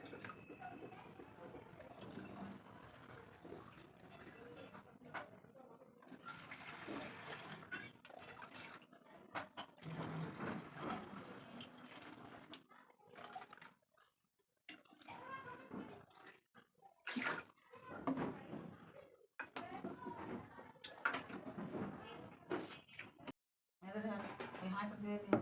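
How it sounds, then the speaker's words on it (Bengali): Water runs into empty bottles being filled indoors, a steady pouring and gurgling that comes and goes over about 25 seconds, with someone talking over much of it. "বোতলগুলোতে আর কি মানে জল ভরে রাখছি"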